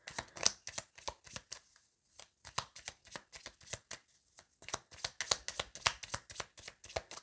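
Tarot cards are shuffled by hand, up close, in quick riffling bursts separated by short pauses, crisp and fairly quiet with no talking.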